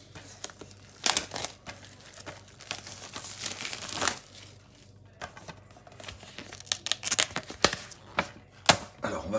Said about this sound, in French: Donc on va le déballer sans perdre de temps les amis.